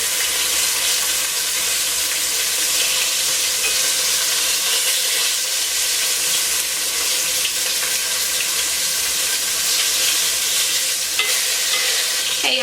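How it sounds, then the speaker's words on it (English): Beef tips frying and sizzling in a pan as they are flipped to brown the other side, a steady, loud crackling hiss that runs continuously with no talk. "I'm going to flip them over and brown the other side"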